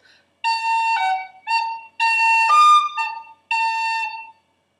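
Irish whistle playing the reel The Connachtman's Rambles, several bright ornamented phrases with short gaps between them, clear and close, no talking.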